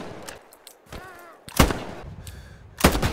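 Gunfire in the World War II shooter game Hell Let Loose, with a few loud, sharp gunshot blasts spaced apart and a quieter crackle of distant fire and game sounds between them.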